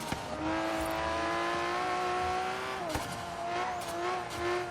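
Twin-turbo Lamborghini Reventón in Forza Horizon 3 heard from the cockpit, its engine droning steadily as it rises in pitch, dips at a gear change, then climbs again, with a few sharp transient clicks.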